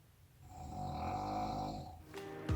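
A woman snores loudly and close by, one long rumbling inhaled snore that swells and fades, followed by a couple of brief knocks.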